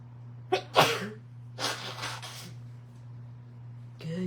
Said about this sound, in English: Excuse me, I have to blow my nose and I'm gonna sneeze.